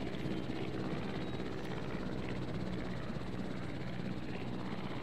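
A helicopter in the dinosaur park game Jurassic World Evolution drones steadily with a continuous rotor and engine rumble, constant and fairly loud, with no talk.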